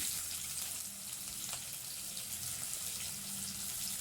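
Sliced large onions fry in hot oil for a paneer biryani, making a quiet, continuous sizzle with a few light crackles.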